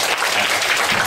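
A lecture audience at a hands-on science event breaks into dense, steady applause to welcome Professor Li Wanglong, a continuous close wash of clapping lasting about a second with no voices.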